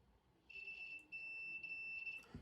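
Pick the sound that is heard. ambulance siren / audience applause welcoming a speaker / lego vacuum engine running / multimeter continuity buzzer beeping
multimeter continuity buzzer beeping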